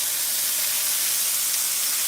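A loud, continuous sizzling hiss runs steadily and evenly from start to finish, with no voices over it.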